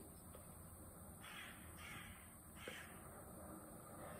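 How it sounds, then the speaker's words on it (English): A crow at an open window gives a few faint caws over a steady background hiss. "A bird just landed on my window, which is open."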